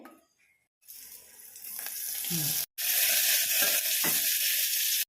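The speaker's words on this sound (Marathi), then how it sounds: "मिरच्या चांगल्या भाजल्यात बघा आता ह्याच्यात एक चमचाच तेल घालायचं आहे" Green chillies frying in oil in a pan, a loud steady sizzle that starts after a quiet moment, builds, briefly cuts out, then resumes at full strength to the end.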